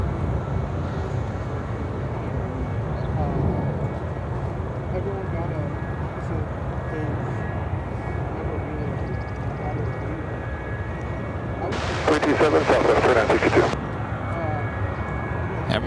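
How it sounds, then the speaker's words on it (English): United Express CRJ 200 LR regional jet taking off at Chicago O'Hare, a continuous low engine rumble with a speaking voice over it, and a sharp burst of noise near the end. "5564 taking off to South Bend on the CRJ 200 LR."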